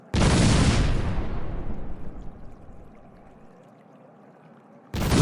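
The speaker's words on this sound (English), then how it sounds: "It's a firework." A single firework blast in a 4th of July setting, a loud close boom with a long rumbling decay that fades over several seconds before another burst cuts in.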